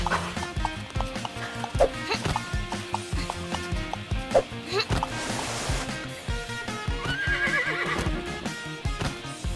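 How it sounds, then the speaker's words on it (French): A cartoon horse gallops with rhythmic clip-clop hoofbeats and a whinny, set against loud busy background music throughout. "j'espère que tu es prête à galoper un peu"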